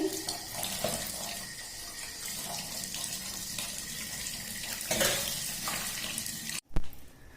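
Tap water runs into a sink while chicken meat soaks, a close, continuous splashing stream with small clinks and shifts in the flow, ending with a brief pause and a louder knock.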